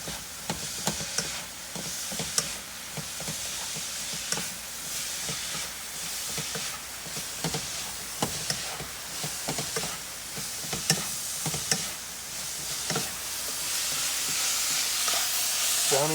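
Cabbage sizzles and hisses in a hot pan while being stir-fried for egg rolls, with steady frying noise broken by frequent sharp scraping stirs and clicks, close and moderately loud, with no one speaking.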